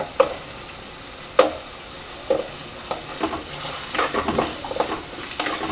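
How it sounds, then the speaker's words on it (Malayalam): Green chili and onion sauté in a pan for Kerala-style beef roast, with soft frying sizzle under scattered spoon knocks and scrapes, growing busier toward the end. "എന്നിട്ട് നന്നായി ഒന്ന് വഴറ്റിയെടുക്കണം."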